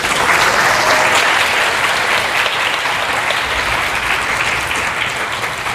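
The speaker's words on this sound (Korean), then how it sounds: "다시 한번 큰 박수 부탁드립니다." A large audience applauds steadily and loudly, a dense, continuous wash of clapping that holds throughout without any talk.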